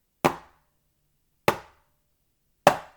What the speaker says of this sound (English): Right, because those are hitting the same time just about.